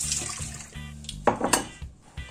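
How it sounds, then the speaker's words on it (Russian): Water poured off onions marinated in boiling water and vinegar, with metal and dish clatter and a short splashing pour into a kitchen sink, close and moderately quiet. "Сейчас я солью воду."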